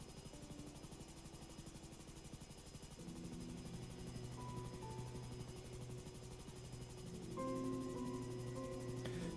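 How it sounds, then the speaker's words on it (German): Enemy helicopters in GTA V drone with a dense, continuous rotor chop and engine whine, steady and fairly close, thickening as more tones join partway through and again near the end, with no speech. "Bei 25 werden da die feindlichen Hubschrauber gespawnt."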